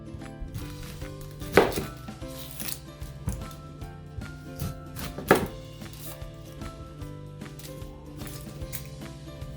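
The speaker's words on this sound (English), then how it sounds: "So I'm gonna show you guys how to cut an onion." A professional kitchen knife cuts through an onion on a board, with two sharp, prominent chops and a few softer cuts spread over a steady low background hum, heard close; no talking.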